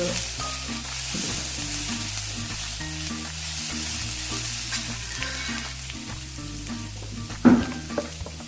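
Fish curry masala frying in oil in a pan, a steady close sizzle with stirring over a background of tonal music, ending in a sharp clatter and short bumps.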